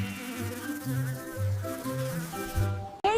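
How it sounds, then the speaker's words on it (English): A mosquito gives a thin, steady, wavering buzz that holds for about three seconds before cutting off abruptly. "It is a mosquito."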